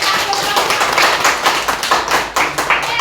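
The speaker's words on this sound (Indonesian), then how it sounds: "Tepuk tangan dulu buat" A seated audience at an Indonesian event claps together, a dense, steady patter of many hands filling the room at close range, with faint voices mixed underneath.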